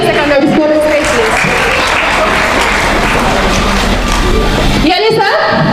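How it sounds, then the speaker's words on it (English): Applause from an audience at a live school quiz event fills the middle of the clip, a broad wash of clapping that swells and fades, with a voice speaking over it at the start and end. "A round of applause for her, please."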